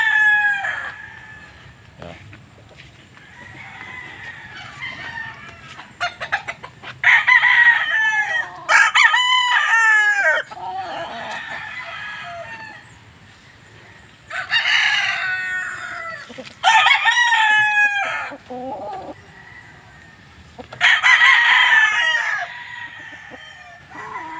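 Several roosters crow loudly and repeatedly at close range, with clucking hens in between calls.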